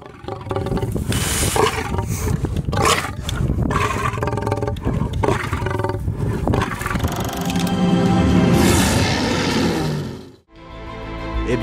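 An adult lion roars loudly and close, in a long, heavy series of deep roars that swells and then cuts off abruptly near the end.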